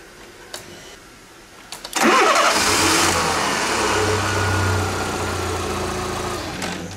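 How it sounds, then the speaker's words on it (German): A car engine cranks and catches with a sudden roar, then settles into a steady, loud idle with a low rumbling hum. "und dann werden wir einmal den Motor starten"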